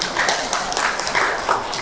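An audience claps hands in a school orientation session, a brisk, continuous patter of applause lasting under two seconds.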